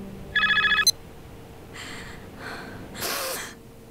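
An old-fashioned telephone rings in a single short burst in the adventure video game Barrow Hill, a bright rapid trilling bell, followed by soft breathy sounds and a faint hiss afterward.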